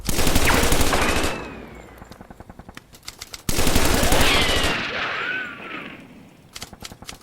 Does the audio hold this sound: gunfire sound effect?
yes